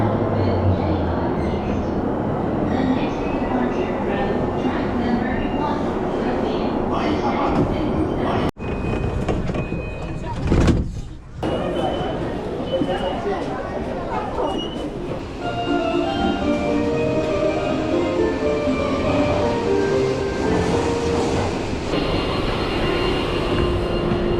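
A train rumbles past close by in Tokyo, a loud continuous roar with clattering wheels and a sudden whoosh midway, then rolling on steadily.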